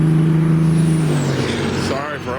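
Heavy road traffic passes close by, led by a loud vehicle whose sustained tonal whine and hiss fade away as it goes by, followed by more rumbling engine noise.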